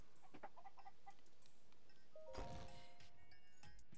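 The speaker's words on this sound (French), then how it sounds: "maintenant, il y a des poules" Chickens clucking in the video game Zelda Tears of the Kingdom, scattered soft clucks and short calls at low level over faint game ambience, with one louder burst midway.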